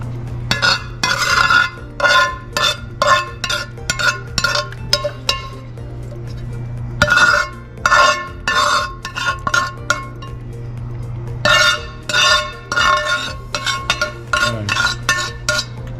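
A cup scrapes and clinks against metal baking pans in a kitchen while lasagna sauce is spread, bursts of loud rhythmic scraping separated by pauses over a steady low hum, likely an Anova Precision Oven, with no talk.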